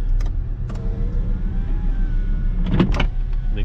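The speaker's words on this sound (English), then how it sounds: "We have power windows." Power window motors whirring in a 1996 Volvo 850R, a soft steady electric hum with a couple of thumps and clicks as the glass stops, over a low idling engine.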